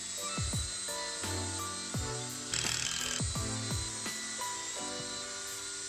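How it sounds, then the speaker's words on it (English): Drill boring holes and driving screws to fasten a cross support onto wooden slats of a shoe bench, a close run of short motor bursts with rising and falling whine and one rougher drilling stretch. "Then I drill the rest of the holes and screw down the cross support."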